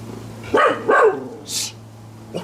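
Dogs bark a few times nearby, two distinct barks close together followed by fainter yips, over a steady low hum from a hot tub.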